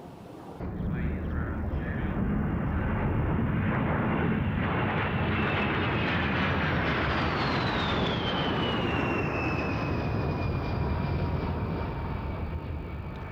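A B-52 bomber flying past at the RIAT air show, a loud, sustained roar of jet engines rising quickly and holding for over ten seconds, with a slowly falling whine as the aircraft passes and recedes.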